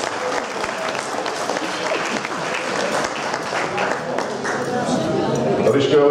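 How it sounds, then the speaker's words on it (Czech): Audience clapping at a Czech dance party, a dense steady patter that swells slightly toward the end, with voices mixed in. "Zatleskejte, když se všichni,"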